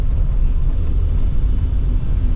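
Low, steady engine rumble from a Volvo 960 GL Turbo under acceleration, a dense droning hum heard from inside the cabin with no voices.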